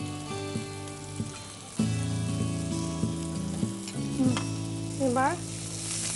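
Onion being stirred and frying in a pan, giving a steady sizzle and crackle with scraping from a spoon, heard under music and a brief spoken word.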